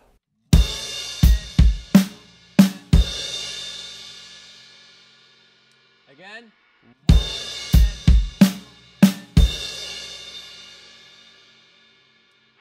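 Drum kit playing a beat: bass drum with crash, plus snare hits, in two short loud phrases of sharp strikes separated by a quiet gap with a brief spoken word.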